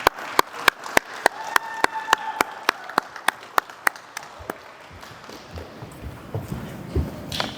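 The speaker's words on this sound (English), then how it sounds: "So let's give her a round of applause." Sharp, evenly spaced claps at a graduation ceremony, about fourteen crisp hits over four seconds, then stopping and leaving quiet room noise with faint shuffling.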